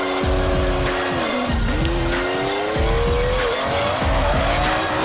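A Bugatti Veyron drifts in the Forza Horizon racing game, its engine droning loud and steady while long tire squeals rise and fall continuously throughout, with no talk over it.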